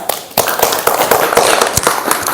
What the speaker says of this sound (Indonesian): kita beri aplaus dulu untuk teman kita